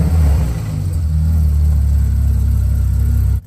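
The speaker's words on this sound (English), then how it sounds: "I wanted to hear this thing fire up" Porsche GT4 engine starting up and revving, a loud, close, steady throaty roar that holds for several seconds before cutting off abruptly.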